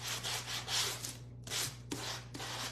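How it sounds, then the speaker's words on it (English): Hand sanding of wood on a homemade surfboard wagon, with rhythmic back-and-forth rubbing strokes in short bursts and a brief pause midway, close and fairly quiet over a low steady hum. "I feel like this needs a good little sanding"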